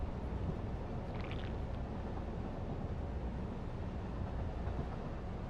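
Train running along its track in the factory-building video game Satisfactory, a steady, continuous rumble with a brief higher whine partway through, alone with no talk.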